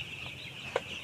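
Small broiler chickens in a poultry house give a single soft cluck over a faint steady background hum, the call brief and close.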